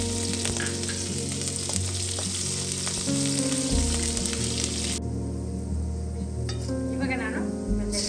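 Chilli frying in a pan with browned ingredients gives a loud, continuous sizzle with steady crackling and occasional stirring, under a low background hum.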